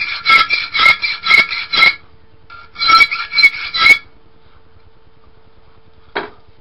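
A hand file rasps across hard steel being shaped into a knife, giving two bursts of quick, loud back-and-forth strokes separated by a short pause, followed by a single brief scrape near the end in a quiet setting.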